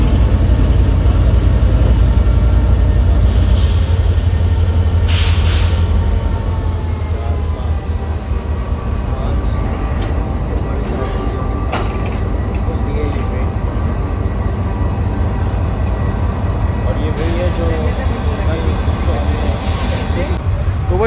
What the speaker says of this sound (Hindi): प्लेटफॉर्म पर और ट्रेन आ रही है GM3811 के साथ